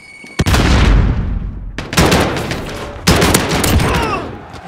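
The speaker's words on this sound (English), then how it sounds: "Grenade out." Three loud, sharp bursts from a stun grenade and other detonations in a video game, each followed by a decaying roar, close and dominant.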